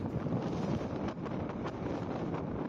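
Wind on a cold mountain near Mount Ruapehu buffets the microphone in a constant low roar, with gusty rumbling throughout and no voices.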